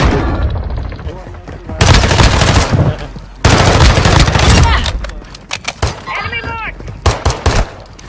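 Rapid bursts of automatic gunfire in a battle royale shooter game, loud and repeated in several clusters with short pauses, a voice calling out between volleys.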